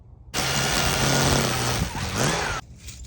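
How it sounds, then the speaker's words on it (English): A string trimmer scalps lawn grass down to the soil while clearing a lawn for a garden bed, a loud, close motor whine that holds for about two seconds with shifting pitch and then cuts off. "I'm going to scalp everything down with the string trimmer"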